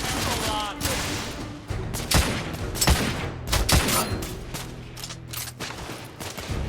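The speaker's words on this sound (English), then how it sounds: "I'm taking heavy fire!" Gunfire in The Order 1886 video game, a rapid fusillade of sharp shots in clustered bursts, loud and close among a busy battle mix.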